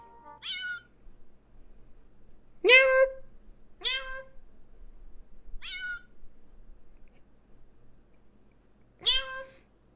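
A man imitates a cat's meow with his voice, giving five short, tonal mews in uneven succession, close and clear against a quiet background.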